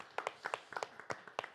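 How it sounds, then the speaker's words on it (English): Audience claps as a new panelist, a local Montreal musician, is welcomed at a music industry symposium; uneven, sparse hand claps in quick bursts, moderately close, without talk over them. "Everyone gets a clap"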